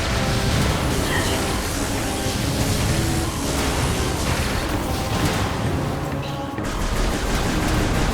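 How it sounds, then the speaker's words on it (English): Gun turrets fire in Metroid Prime Remastered, a dense continuous barrage of loud shots and blasts layered with game effects, steady throughout. "Gun turrets to deal with."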